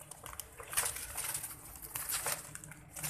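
Soft pigeon cooing and faint wing flutters at a moderate distance, with light rustling around them and no talking.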